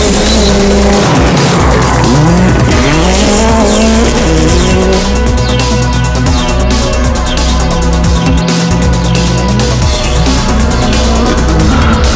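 A rally car on a stage in Finland, engine roaring loud and close throughout with rising and falling revs through gear changes, plus tire squeal and skidding.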